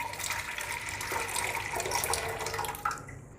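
Water is poured into a pressure cooker to tenderise beef for Kabuli pulao, making a steady, close splashing and filling sound that runs for about three seconds and then stops, with no talking.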